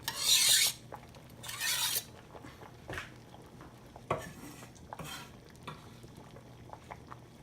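Chopped cilantro going into a pot of cooking lentils, heard as two loud rasping scrapes of stirring and scraping against the pot, followed by softer clinks and faint stirring noises, with no talking.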